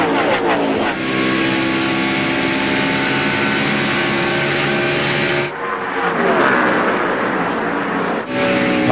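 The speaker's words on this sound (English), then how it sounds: "Rusty Wallace, Jeff Burton, Mark Martin, all racing for that spot" NASCAR Winston Cup stock cars racing at the 2002 UAW-GM Quality 500, a loud continuous engine roar with shifting pitch as the pack passes close by, a brief dip and surge midway.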